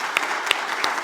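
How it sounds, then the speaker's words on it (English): Attendees at a plant-forward culinary summit give the kitchen team a round of applause, steady moderate clapping with a few sharper, closer claps standing out now and then. "So one more round of applause for the kitchen team as well,"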